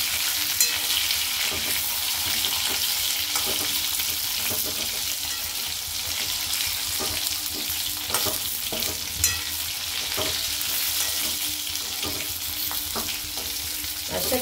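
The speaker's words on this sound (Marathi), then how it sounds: "आता ह्या वांग्याला आपण चांगलं परतून घेऊ आधी।" Brinjal being sautéed in hot oil in a thick-bottomed kadhai, with a continuous close sizzle and repeated scraping, stirring strokes of a spatula against the pan throughout.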